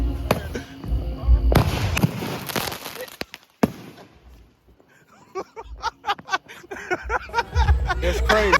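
Fireworks at a 4th of July weekend celebration go off close by: loud bursts and a sharp bang, then quieter spells and a run of crackling pops, with people shouting and talking between blasts.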